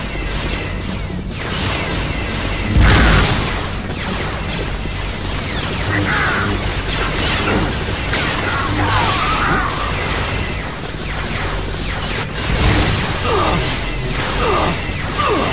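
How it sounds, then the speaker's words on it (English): Grenade blasts and heavy weapon fire in Star Wars: Jedi Outcast on PS4, Cairn Hangar Bays level: a dense, continuous battle din with two sharp booming bursts standing out near the start and near the end. "Who's firing those grenades?"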